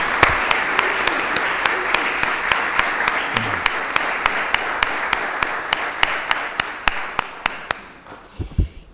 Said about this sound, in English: How about a round of applause for this wonderful organization?